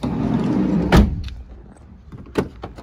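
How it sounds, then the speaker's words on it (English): The driver's side door of a 2013 VW Caddy Maxi van opens with a clunk of the latch and a solid thump, over low background rumble, then a lighter click follows a moment later. "Right, opening up driver's side"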